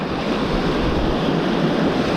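Winter sea swell and choppy waves on a shoreline during bass lure fishing make a continuous broad roar with wind buffeting the microphone, steady and fairly loud throughout.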